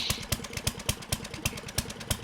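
A drill runs in the video game 7 Days To Die, a fast, even mechanical clatter of regular pulses, fairly quiet and close, with no talking.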